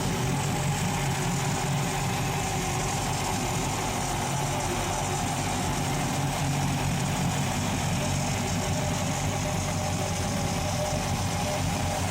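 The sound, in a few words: boat engines idling while warming up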